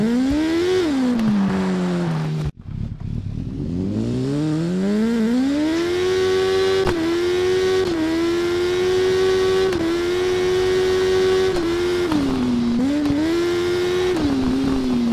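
BMW motorcycle engine in the TT Isle of Man racing video game, a loud continuous high-revving whine that climbs through gears, cuts out briefly, then rises again and holds at high revs.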